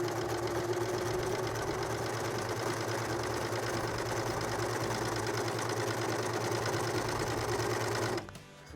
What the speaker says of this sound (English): I always pull it a little bit stretched when I'm serging something like this.